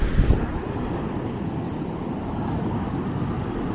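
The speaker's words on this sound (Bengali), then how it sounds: "সমুদ্র" Sea waves wash onto the beach at Cox's Bazar, a continuous hissing surf mixed with buffeting wind on the microphone, fairly near and steady, with no one talking.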